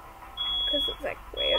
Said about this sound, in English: that is my smoke alarm because we're cooking dinner at the moment.